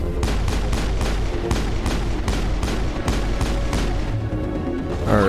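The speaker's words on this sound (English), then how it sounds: "Where am I getting shot from?" Video game gunfire from Mass Effect bursts out in a steady run of loud rapid shots, each crack landing close together over a continuous low rumble of combat noise.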